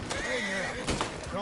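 A horse in the video game Red Dead Redemption 2 lets out a loud, close whinny lasting just over a second, with faint hoof clops underneath.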